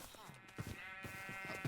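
Sheep bleating in a blocky sandbox game, a wavering bleat rising over faint rustling and soft thuds, fairly quiet and alone.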